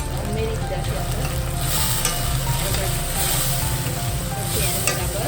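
Garam masala frying and sizzling in a pan with tomato and green onion, stirred steadily; a continuous close hiss with scraping stir sounds throughout.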